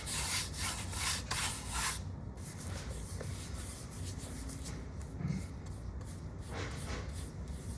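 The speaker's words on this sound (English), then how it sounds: "a couple of things that Zeb's outside sanding" Wood being sanded outdoors, heard as a steady rasping rub that runs through the whole stretch at moderate distance, with rougher, brighter strokes early on and no talk over it.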